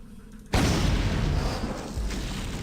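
A cannon fires in the stealth game Thief 2 with a sudden loud boom, then a long, rumbling, noisy roar that fades slowly and carries a faint second thump near the end.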